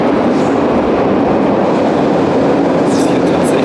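Loud, continuous roar of a subway train rumbling past close by, a steady heavy wash of noise with faint squeals near the end.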